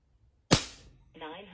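A single sharp crack from a Crosman air rifle fired at a paper target, loud and close, followed by a short ringing tail and a faint metallic ping.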